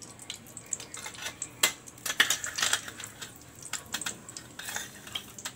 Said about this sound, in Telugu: ఇప్పుడు హాఫ్ స్పూన్